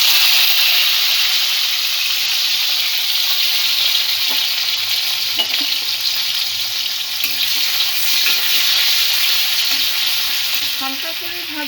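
Chopped onion, ginger and tomato fry in hot oil in a pan, a steady close sizzle running throughout with occasional stirring scrapes and clinks.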